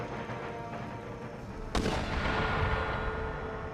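A single heavy artillery shot from howitzers in Empire: Total War booms out partway through, a sharp report that rolls into a sustained rumble over ongoing battlefield noise.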